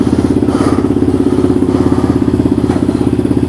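Motorcycle engine running steadily close by on a quick test ride after clutch switch work, a loud continuous throbbing drone with a rough pulsing beat and light mechanical clatter, no voices.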